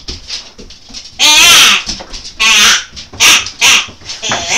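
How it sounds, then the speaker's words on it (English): Loud, harsh open-mouthed animal calls from a hunting predator call, three or four strained bleating bursts separated by short pauses, close and prominent over quiet background noise. "that's the open mouth calls"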